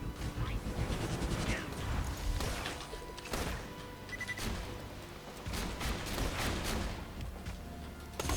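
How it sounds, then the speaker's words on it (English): Grenade combat in the video game Borderlands, a busy stretch of muffled blasts, crashes and impacts over a constant game soundscape, fairly quiet overall with a few sharper thumps. "Throwing grenade."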